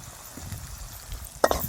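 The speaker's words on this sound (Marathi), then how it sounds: "आता मिरची परतून घ्यायची," Green chillies frying in oil with turmeric, a soft steady sizzle under low background noise, then a couple of sharp clinks and scrapes of stirring near the end.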